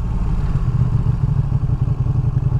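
A 2023 Ducati Panigale V2 motorcycle with stock exhaust ridden around New York City, its engine a loud, close, throbbing rumble with fluttering pulses throughout.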